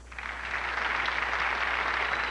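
Steady audience applause in a TV studio on a Spanish-language variety show, continuous and moderately loud for the whole stretch with no voices on top.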